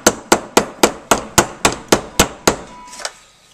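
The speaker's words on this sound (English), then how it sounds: "And then I also see people hammering nails with the lens" MTE M3-2I flashlight lens striking a nail, about ten sharp, evenly spaced metallic clanks in quick succession, close and loud, then a brief pause and two lighter taps.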